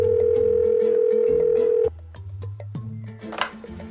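A steady dial tone on a telephone line holds for about two seconds and then cuts off as the call connects, leaving quieter room sound and a brief click.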